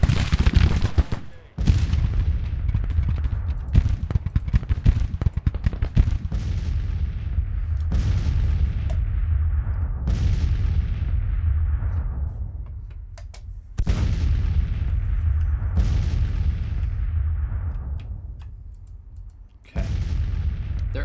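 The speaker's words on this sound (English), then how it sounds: "Go figure the artillery shows up first. How are they still shooting them?" Heavy artillery fire in the Grand Tactician: The Civil War game, with repeated loud booming cannon blasts and rolling explosions over a continuous rumbling barrage, close and dense throughout, with no speech.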